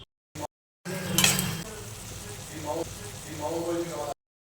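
Drumstick flower curry sizzling in a pan as it is stirred, with soft scraping and frying crackle broken by short gaps and a louder burst of stirring early on.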